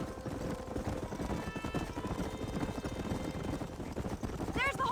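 Horses clip-clop and neigh in the Red Dead Redemption video game, hooves drumming steadily against a dense outdoor backdrop. A whinny rises near the end, and a voice speaks over the action.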